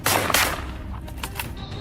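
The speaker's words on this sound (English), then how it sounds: "a rapid burst of gunfire erupts" A rapid burst of gunfire is aimed at a charging giant beast in farm fields. Two loud, sharp reports come up front, followed by several fainter quick pops, with no speech.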